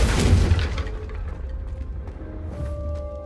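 A Confringo fire spell explodes in the Hogwarts Legacy video game, a single heavy boom up close that rolls off into a low rumble and fading debris.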